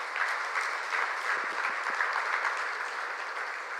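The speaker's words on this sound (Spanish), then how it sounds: "Dale un aplauso a Jesús." A church congregation applauds during a Spanish-language sermon, a steady wash of clapping across the crowd at moderate volume, continuous and even, with a few low thumps partway through.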